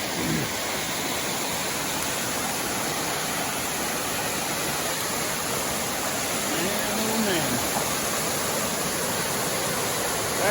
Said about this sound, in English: Try to get a good look at this waterfall.